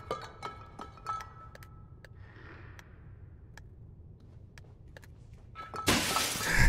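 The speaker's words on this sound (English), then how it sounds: "Can I throw the fuse through the glass and not break the fuse?" Glass shatters loudly near the end after a fuse is thrown at a pane in the horror game Little Nightmares 2, a sudden crash that bursts out of quiet ambience broken by faint ticks and taps.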